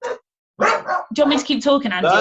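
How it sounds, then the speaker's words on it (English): A pet dog gives a short bark at the start, then a person talks over it indoors. "that's my dog's just saying hello."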